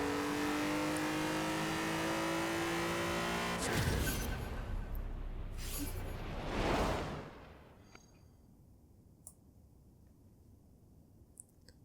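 A massive drag-racing truck in Forza Horizon 4 revs hard through rising gear changes, its engine roaring loudly, then cutting off abruptly and falling to a quieter idle with faint clicks.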